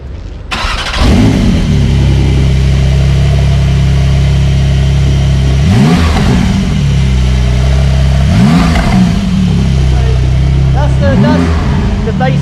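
A Porsche 911 992 Turbo S with a Quicksilver stainless sport exhaust starts up and settles into a loud, close idle. It rises into three rising revs spaced several seconds apart, with talk running over the engine.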